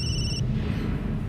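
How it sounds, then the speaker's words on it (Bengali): A telephone ringtone sounds clearly in a short burst, cutting off after a moment and leaving a low background rumble. "এক মিনিট, ফোন এসছে।"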